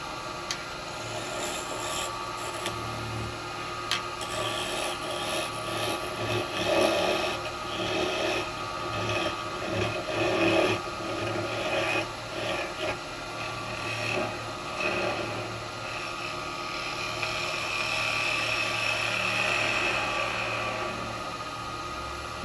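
A gouge cuts a wooden bowl turning on a lathe, a steady scraping, rasping hiss with uneven bursts as the tool bites, rising and easing over about twenty seconds with no talking.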